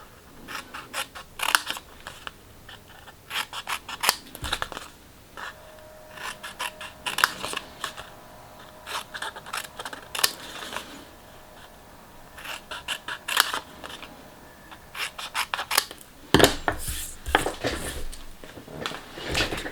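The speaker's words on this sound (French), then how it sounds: "pour monter la boîte, il suffit comme d'habitude de couper" Scissors cutting out a paper box, producing clusters of crisp snipping and rustling paper in irregular bursts with short pauses between them, close and moderately loud, with no talking.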